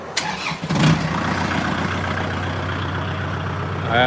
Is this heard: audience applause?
no